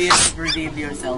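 A single sharp sneeze bursts out at the start, loud and close, followed immediately by people talking.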